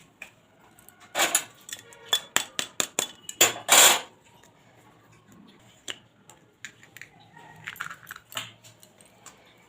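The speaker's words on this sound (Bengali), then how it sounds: "ডিমগুলো এবার একটা বাটির মধ্যে নিয়ে নিচ্ছি ফাটিয়ে" Eggs cracked against a bowl and emptied in, a run of sharp close taps and clicks with a louder crunchy burst, then quieter scattered knocks, no speech.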